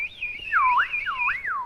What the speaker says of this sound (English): I can only whistle one note.